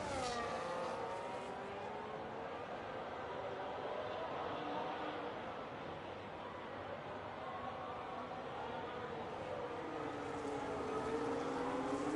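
F1 race cars in a video game league race in Mexico, engines droning steadily throughout with pitch sweeps as several cars race closely together, a continuous loud mix of engine whine.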